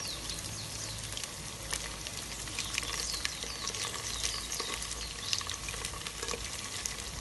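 Chicken pieces fry in a pan with a busy, crackling sizzle that holds steady for several seconds, close but moderately quiet, with popping spits scattered through it and no voices.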